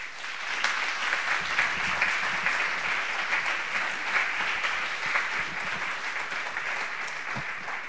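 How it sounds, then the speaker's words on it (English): Sustained audience applause at an award ceremony following a presentation, loud and even throughout, with a dense wash of many hands clapping and no voices over it. "people were clapping for you"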